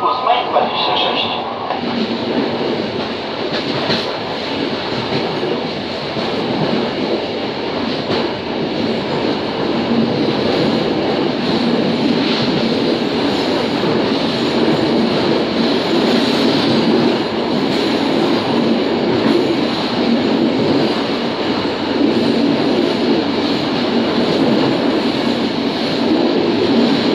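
A passenger train on the Skarżysko-Kamienna to Warszawa Zachodnia line rumbles loudly and steadily as it runs into a station, with rail clatter and a faint wheel squeal.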